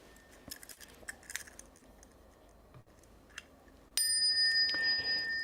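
A single bright bell strikes sharply and rings on with a sustained, shimmering tone after a few soft taps and rustles.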